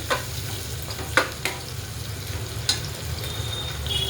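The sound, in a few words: chopped onion frying in oil with cumin, mustard, curry leaves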